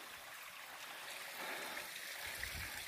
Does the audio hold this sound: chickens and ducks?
no